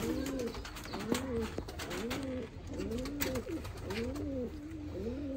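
A male blue pigeon coos nearby in repeated rolling phrases, roughly one per second, steady and clear over a light background hiss.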